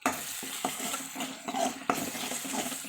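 A liver (kaleji) masala with green chili being stirred in a pan, with close scraping strokes and soft sizzling, and a few sharp utensil knocks against the pan, alone without speech.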